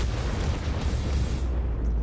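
A tank cannon shot in World of Tanks, a deep booming blast with a heavy low rumble that swells and lingers through the short moment, with no voices over it.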